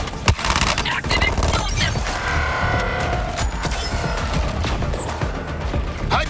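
Rapid, dense gunfire and explosive bursts from the video game Suicide Squad: Kill the Justice League, loud and continuous with mechanical clatter, under the player's voice.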